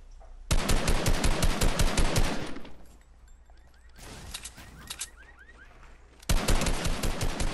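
Machine-gun fire in a shooter video game rattles out in loud rapid bursts, one long volley, a quieter pause with scattered shots, then another burst starting near the end.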